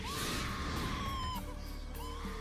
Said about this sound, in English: She screams.